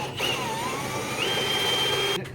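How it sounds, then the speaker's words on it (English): A hand drill runs steadily in a car workshop where a Dodge Charger is worked on, a continuous whining tone that shifts pitch partway through, fairly close and without talk. "Oh, he's got a hand drill."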